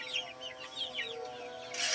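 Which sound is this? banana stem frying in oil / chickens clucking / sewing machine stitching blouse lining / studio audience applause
chickens clucking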